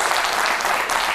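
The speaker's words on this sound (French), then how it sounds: "Vous l'applaudissez, ça fait plaisir." Brief burst of steady audience applause in a sports talk show studio, dense and even clapping throughout.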